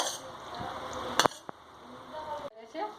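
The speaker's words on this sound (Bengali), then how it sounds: "এরপরে আমি আলুটা একইভাবে নাড়িয়ে নিচ্ছি" Boiled potatoes stirred in a frying pan while cooking chicken ghugni with yellow peas, soft sizzling and scraping with a couple of sharp clinks of a utensil against the pan, close by.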